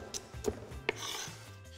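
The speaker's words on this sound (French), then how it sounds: "on va mettre nos oignons à cuire. Donc avant, il va falloir les émincer très finement." A knife finely slicing onions for a pissaladière on a cutting board: a few sharp, separate taps against the board with soft scraping between them, close and fairly quiet, with no talking.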